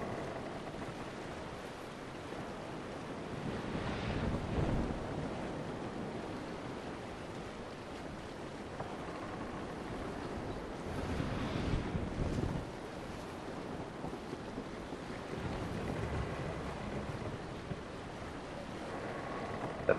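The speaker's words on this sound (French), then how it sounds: "Donc là, le vent s'engouffre dans les voiles avant." In a sailing simulator game, wind fills the foresails over the sea. Steady rushing wind and surf roll on without talk, with stronger gusts and wave surges rising twice.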